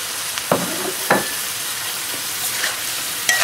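Coconut prawn masala frying on a high flame, with a steady close sizzle and a few brief stirring scrapes and clinks from the pan.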